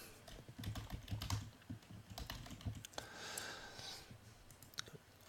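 Computer keyboard typing while entering details to register a Gmail account, a quick close run of soft key clicks in bursts with short pauses, alone without speech.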